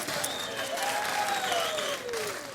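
A crowd at a CS:GO esports match at ESL Challenger Melbourne claps and cheers steadily, a dense wash of applause throughout, with a faint tonal sweep running beneath it.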